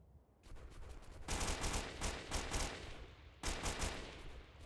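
Rapid automatic gunfire in the video game Delta Force Xtreme comes in several sustained bursts, loud and dense, with short pauses between them.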